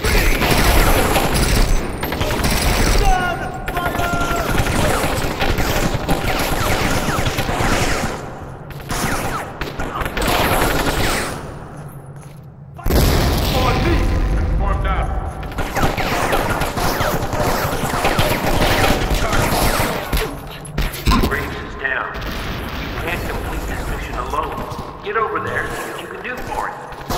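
Video game firefight with dense bursts of automatic gunfire and booming explosions, loud and continuous with brief lulls, while voices shout over the combat.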